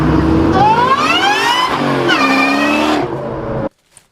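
Ford Mustang Cobra with a supercharger revving hard, a loud, close engine whose pitch climbs twice in quick succession with a whining rise before cutting off abruptly.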